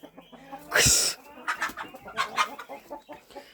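Poultry clucking in a farmyard, with a turkey among the fowl: a loud burst of squawking and clucking, then a run of shorter clucks and calls close by, no talking.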